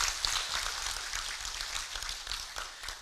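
A meeting audience applauds in a steady, dense patter of many hands that holds at an even level throughout, with no talking over it.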